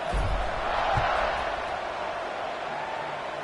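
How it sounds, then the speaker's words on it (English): A stadium crowd in a college football video game, Arizona State against Texas Tech, roars with a broad wash of cheering, loudest at the start and then easing slightly, with no talk over it. "this crowd is feeling themselves after that last drive"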